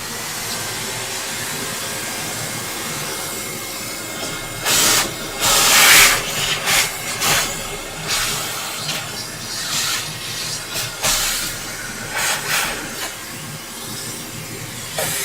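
A vacuum cleaner running at a workbench, a steady broadband hiss and whine that swells louder in bursts as the nozzle moves, with no voices.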